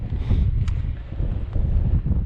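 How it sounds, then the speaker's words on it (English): Steady wind buffets the microphone on the summit of Kidsty Pike, a Lake District fell, in winter. It is a loud, continuous low rumble with gusty swells and no let-up. "Wind's gone up a bit"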